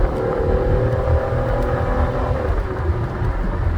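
A 2005 Mercury Sable LS wagon accelerates at half throttle after a brief tire spin, its engine a steady, loud rising drone heard from inside the cabin with constant road rumble beneath it.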